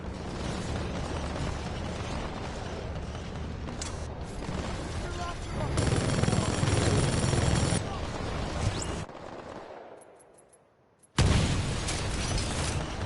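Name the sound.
explosions from weapon fire in video game Titanfall 2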